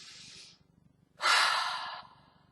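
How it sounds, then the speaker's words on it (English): A person draws a deep breath, with a short soft inhale followed after a pause by a louder, longer airy breath, close and alone. "Take a deep breath."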